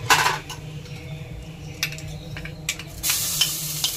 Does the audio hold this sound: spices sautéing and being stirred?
yes